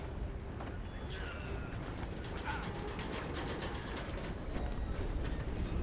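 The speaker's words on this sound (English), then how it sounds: "I'm on the cheese train, Gromit!" A train rolling along in a video game, a continuous rattling, clacking mechanical rumble with ratchet-like ticks, steady and moderately quiet throughout with no talking.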